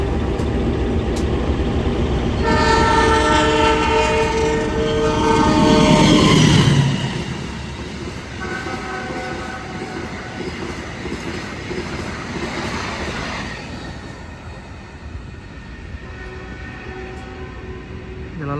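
The Argo Wilis executive train on the Surabaya–Bandung route passes through Sumobito station in drizzle, a loud horn blast, then a rumbling roar and rhythmic wheel clatter fading gradually as it moves away.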